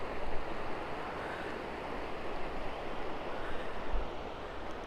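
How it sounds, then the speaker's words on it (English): Flowing river water near Sligachan on the Isle of Skye, a steady broadband rush with a faint low wind rumble, continuous and even, no voices. "I hope you can hear the water."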